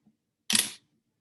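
A single Holga camera shutter fires at a one-thirtieth setting, one crisp, close mechanical snap and brief whir that ends quickly in near silence.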